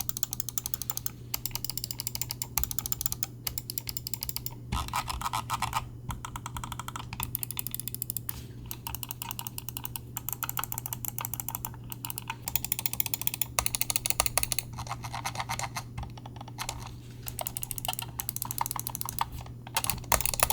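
Logitech G303 Shroud gaming mouse buttons clicked in rapid bursts, sharp dry ticks close to the ear in uneven clusters separated by short pauses, over a faint steady hum.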